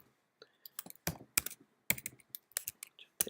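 Quiet, irregular keystrokes tap out a password on a computer keyboard at a MySQL login prompt, with sharp clicks arriving in short bursts separated by brief pauses, close and isolated.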